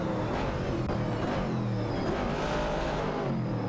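A Dodge Challenger and a Mercury Cougar battle for position in an AI-driven racing video game, their engines roaring loudly and steadily throughout with no voices present.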